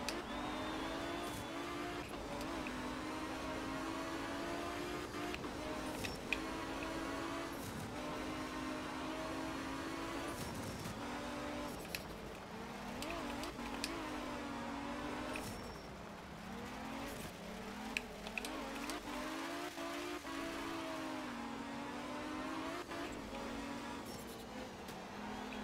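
A Group A rally car on the Kalabakan Valley stage in Indonesia in Art of Rally, its engine droning steadily with rising and falling revs through gear changes and occasional tire noise, continuous at moderate level.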